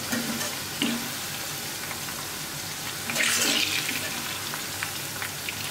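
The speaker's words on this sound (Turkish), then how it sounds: "Artık son olarak havuçları kızartacağım." Oil sizzles and crackles steadily as carrots fry, with a few louder hisses and splashes as pieces are stirred or added.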